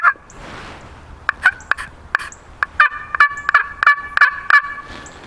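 A turkey slate call scratching out a series of short, high yelps in uneven bursts, loud and close, with no talking.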